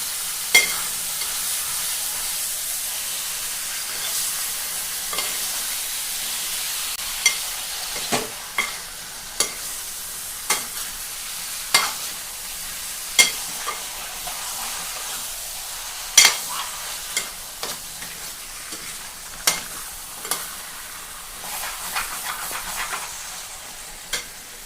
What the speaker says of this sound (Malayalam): നമുക്ക് ചിക്കൻ നന്നായിട്ട് ഇളക്കി കൊടുക്കാം